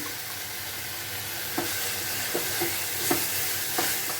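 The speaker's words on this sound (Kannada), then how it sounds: "ಒಂದು ಟೊಮೆಟೊ ಕಟ್ ಮಾಡಿ ಇಟ್ಕೊಂಡಿದ್ದೀನಿ, ಟೊಮೆಟೊ ಹಾಕ್ತಾಯಿದ್ದೀನಿ." Chopped tomato goes into a hot pan for macaroni pasta, where it sizzles and fries steadily, with a few stirring knocks and scrapes against the pan.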